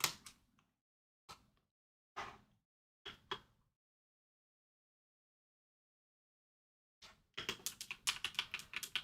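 Typing on a computer keyboard: a few isolated keystroke clusters in the first few seconds, then a pause of near silence, followed by a fast run of close, crisp key clicks near the end.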